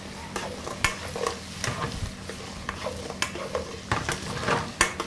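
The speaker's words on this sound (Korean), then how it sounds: "그러면 그때 이제 딱 이 다 된 이 깐풍기를 넣고 볶아주는 거죠." Deep-fried chicken pieces for kkanpunggi are stir-fried in a pan on a portable gas burner, with repeated clinks and scrapes of the utensil and a soft sizzle running beneath.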